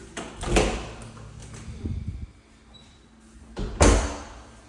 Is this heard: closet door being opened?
yes